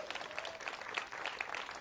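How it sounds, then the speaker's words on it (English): Steady crowd applause at a ribbon cutting for the new MacFarland Middle School, dense and continuous but somewhat faint. "Let's give the middle school a big round of applause."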